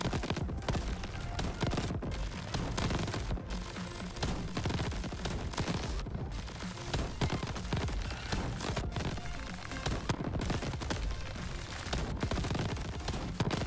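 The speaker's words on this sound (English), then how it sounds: "God, that's so many gigantic rockets." Rockets and heavy weapons fire continuously in Crab Champions, a dense, loud barrage of rapid blasts and explosions with no pauses across the whole stretch.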